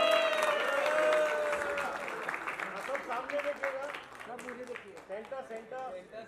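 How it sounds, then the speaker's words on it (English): Audience applauds at an in-flight phone unboxing event for Top10 Retail and Oppo, a dense clapping wash that fades to scattered claps while a voice talks over it. "Can we have a huge round of applause for Robo and the top 10?"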